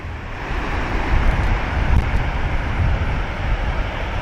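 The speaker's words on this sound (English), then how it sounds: "Crazy surf though" Heavy ocean surf pounds a beach at high tide below a big dune at Vero Beach, a continuous loud roar of breaking waves mixed with gusty wind noise on the microphone, with no talk.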